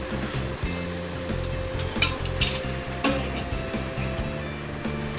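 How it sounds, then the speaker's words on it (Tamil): Onions sizzle steadily as they turn golden brown in a hot pan for chicken biryani, heard up close, with occasional scrapes and knocks from stirring. "இப்போ வெங்காயம் நல்லா வதங்கிட்டு இருக்கு வெங்காயம் பொன்னிறமாக வதங்கிட்டு இருக்கு"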